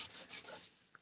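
Sandpaper rubs across whitecore card in three quick, close strokes, each a dry rasping scratch, followed by a faint tap.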